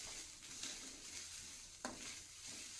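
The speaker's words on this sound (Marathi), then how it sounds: "आता मी याच्यात 1 वाटी खिसलेलं खोबरं टाकते।" One cup of grated fresh coconut frying in hot ghee in a pan, a soft close sizzle with scraping stirs of a spoon. Faint and continuous, with no talking.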